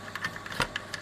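A faulty Tom Evans Mastergroove SR MkIII phono preamp, heard close to its heatsink, ratchets on with a quick, uneven series of sharp little clicks lasting about a second.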